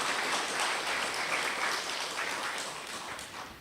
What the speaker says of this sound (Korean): 심사위원 여러분께 다시 한번 큰 박수 부탁드립니다